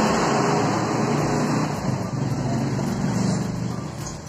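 Street traffic rumbles along a busy roadway as cars, buses and trucks pass by, a steady, fairly loud wash of engine and tyre noise with no clear gaps.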